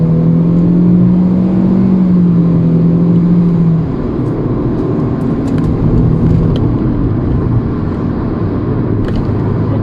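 Proton Iriz Active 2022 hatchback accelerating hard at full throttle, a loud, steady engine drone with a rising tone that levels off, heard from inside the cabin with no talking.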